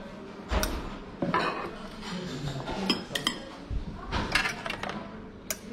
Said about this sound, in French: Je dépose ça sur l'assiette de service.